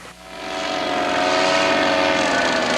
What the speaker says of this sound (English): It's a paramotor, which is basically a personal powered parachute.